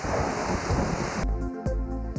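Heavy rain pours down as a dense, loud hiss for about a second before giving way to a music sting.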